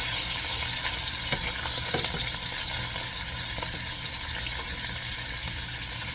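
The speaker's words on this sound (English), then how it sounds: "I'll cook the chicken." White chicken breast meat frying in a pan, a soft steady sizzle with faint crackles and occasional clinks, quiet and continuous.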